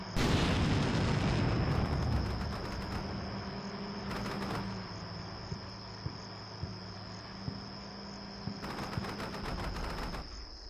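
An artillery barrage in the video game Combat Mission Shock Force 2: a heavy opening blast gives way to a string of spaced, thumping impacts under a constant insect-like chirping ambience, fairly faint overall.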